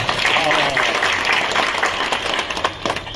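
An outdoor crowd of construction workers at a government utensil distribution event claps in a dense burst, loud and close, with voices mixed in and the clapping thinning toward the end.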